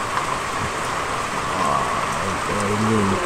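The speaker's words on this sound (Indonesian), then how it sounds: "Start pukul 4 pagi tadi hujan sampai sekarang" Steady rain pours down, most likely on a boat moored at sea, a dense continuous hiss throughout with faint low tonal sounds rising near the end.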